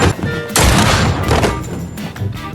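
Gunfire erupts in an action film scene as a loud, sudden blast with a rumbling, crashing tail that fades over the next couple of seconds.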